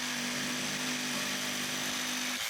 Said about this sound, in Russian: Ну а теперь лобзик.